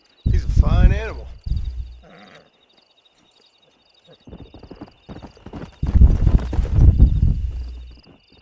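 A stallion in Red Dead Redemption whinnies and its hooves clop in rapid, loud rhythmic bursts, separated by a quiet pause, with speech present.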